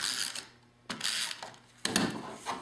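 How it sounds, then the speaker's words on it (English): Adhesive tape runner rolled across the back of a 4 1/4 by 3 3/4 inch piece of designer series paper for a gift card holder, giving quiet, close ratcheting clicks in three short bursts with brief pauses between. "I'm just going to run some adhesive on the back."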